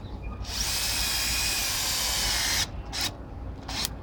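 A Fein ASCM 18QX cordless drill with a 4.0Ah battery drives a screw at speed 2, a loud continuous whine of about two seconds that cuts off, followed by two brief trigger bursts.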